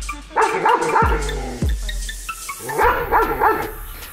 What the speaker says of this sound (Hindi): आपने नॉर्मली हर कुत्ते को देखा होगा कि वो भौंक सकता है आराम से